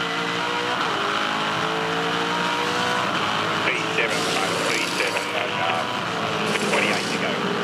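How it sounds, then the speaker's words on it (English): Toll HSV Commodore Supercar moving through the pit lane at Oran Park during a 2006 Supercars Championship race, engine droning steadily with other car noise around, under continuous commentary. "Teammate on teammate here as Tander's Toll HSV Commodore is in the lane."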